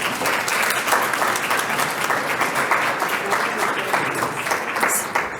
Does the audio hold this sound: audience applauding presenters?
yes